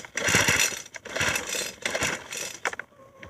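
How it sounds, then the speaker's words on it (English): Starter cord on a Craftsman 4-stroke string trimmer yanked in quick succession, each pull a loud, close rasping whir with brief gaps between, the engine not catching. "Then squeeze the throttle and pull it 5 times."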